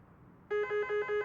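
A telephone rings with a steady electronic tone in rapid repeated pulses, loud and close, starting abruptly after a quiet room background.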